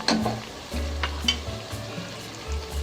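Green chillies fried and stirred in a pan: a close sizzle with occasional utensil scrapes and taps over a low, steady rumble of the burner.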